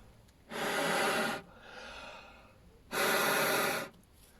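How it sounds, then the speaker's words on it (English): A person blows air by mouth through a new car heater matrix, making two steady, close breathy rushes of about a second each with a quiet pause between them. "Now this nice new one, I'm not having to blow very hard at all."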